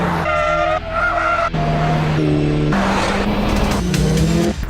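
A Mitsubishi Lancer Evolution 10 is driven hard around a racing school track, its engine revving up and down through gears with tires squealing and skidding, loud and close.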